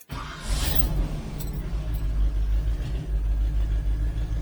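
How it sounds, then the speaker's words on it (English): A 1972 Chevrolet Nova engine turns over and settles into a steady, loud, low idle rumble close by, with no talking over it. "So let's go ahead and start the engine."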